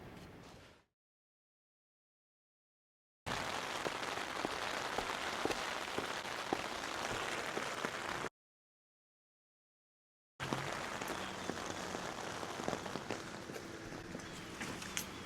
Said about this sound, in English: We've just had a sudden downpour